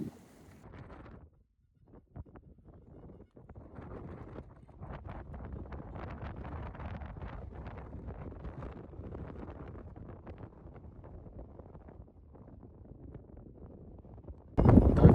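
Steady, gusty wind buffeting the microphone with a low rumble, broken by a brief quiet gap and ending in a loud blast.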